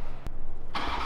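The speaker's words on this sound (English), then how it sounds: "let's get a cold start up on the 2020 Supra with the full TurboVac FI exhaust" A 2020 Toyota Supra with a full TurboVac FI exhaust fires up from cold: a short click, a pause, then the engine catches and settles into a loud, steady idle.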